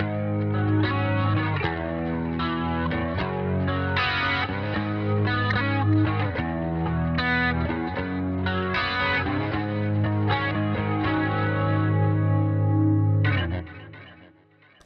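Electric guitar through a Fender Tone Master Pro on a Limelight chorus preset, strummed chords swelling with shimmering modulation, echo and slight grit, loud and sustained before fading out at the end.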